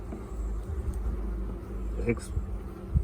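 Honeybees buzz at an open hive during a March inspection, a low steady drone close by, with a few brief bumps and clicks from handling the frames.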